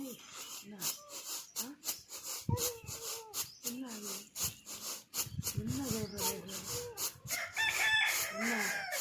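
Chickens cluck in short bursts and a rooster crows nearby, with people talking over the birds throughout.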